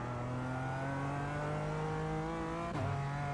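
A BMW GT4 race car in iRacing at the Nordschleife accelerates hard, its engine note climbing steadily, then a sharp upshift dip near the end before the revs build again, loud and continuous with no talk.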